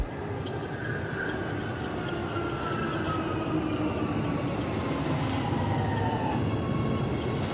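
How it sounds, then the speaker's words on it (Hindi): A metro train rumbles into Dwarka Metro Station steadily, with a long high whine sliding downward as it slows, constant and fairly loud throughout. "मेट्रो आई। फटाफट पंकज मेट्रो पर चढ़ गया"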